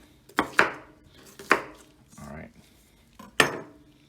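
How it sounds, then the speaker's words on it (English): A knife chops vegetables into smaller pieces on a cutting board for a blended raw sauce. A few sharp, close knocks land at irregular intervals, with a softer scrape between them and no voice over them. "So just that it's easier for it to blend, we cut it up a bit smaller."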